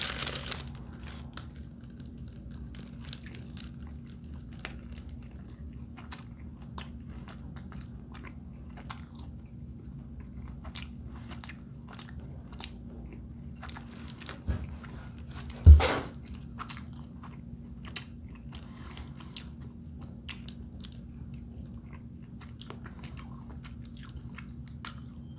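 Someone eats a food truck dish dressed with a new mayo-based sauce, with soft, close chewing and biting against a low steady hum, plus one sharper crunch or knock partway through. No talking.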